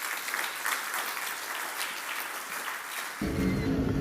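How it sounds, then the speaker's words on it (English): Audience applause at an awards ceremony, a continuous roomful of clapping at moderate level that carries on steadily, with a low hum or rumble joining near the end. "please give him a warm round of applause"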